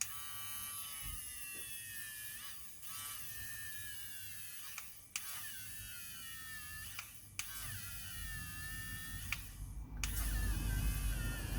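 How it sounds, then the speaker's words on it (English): A battery-powered electric eraser, either a Derwent or a Monte Marte model, spins with a high, whining motor buzz that stops and starts several times and shifts in pitch as it rubs on paper, growing louder toward the end. "Oh my gosh, I feel like I'm going to the dentist with all of this noise."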